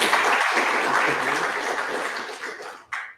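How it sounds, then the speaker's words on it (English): Sustained applause from a conference audience after a talk, steady broadband clapping that fades slightly toward the end. "I hope you could hear the applause."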